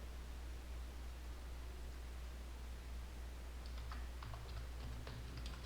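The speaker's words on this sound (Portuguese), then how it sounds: "Vamos digitar uma nota aqui." Soft, quick keystrokes tap on a computer keyboard as a short note is typed, faint clicks arriving in an irregular run over a low steady hiss.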